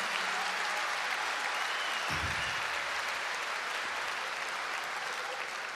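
A concert audience in Lisbon applauds the bass player at a rock show, a steady wash of clapping throughout with a brief low thump partway through.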